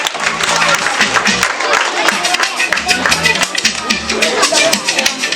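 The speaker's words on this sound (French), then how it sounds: "Sous vos applaudissements, mesdames et messieurs." Audience clapping at a school year-end celebration, dense and continuous across the whole stretch, with crowd murmur and voices mixed in underneath.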